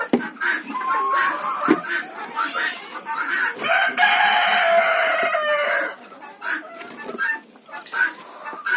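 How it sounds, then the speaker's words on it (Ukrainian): Roosters crow repeatedly on a farm yard, loud and close, with hens clucking around them and a few sharp knocks, and a brief voice murmuring in the background. "тому що півники співають гарно"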